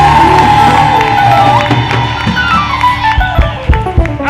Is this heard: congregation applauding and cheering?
yes